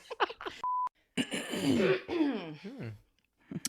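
A short cough or throat clearing, followed by a beep, then a person speaking and laughing.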